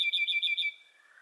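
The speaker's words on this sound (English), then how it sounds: "sees a bird caught in a net hanging from a tree" A small cartoon bird trapped in a net chirps in a quick run of five bright, even tweets, then trails off into a fainter, lower call.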